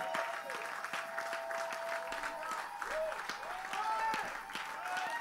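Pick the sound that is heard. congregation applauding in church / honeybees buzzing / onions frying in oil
congregation applauding in church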